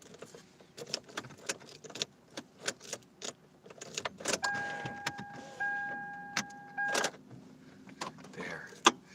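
Electric power windows motor up inside a parked car, a steady whirring hum lasting a couple of seconds, surrounded by rustling, clicks and a jangle of keys in the cabin, with a door-like thump near the end.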